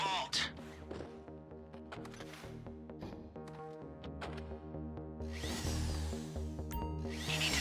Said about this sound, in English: You need to drill your way through multiple disks in order to break the vault door lock